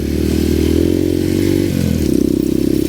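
An enduro motorcycle rides a trail, its engine close and loud with a steady throbbing drone that shifts pitch as the throttle changes near the end.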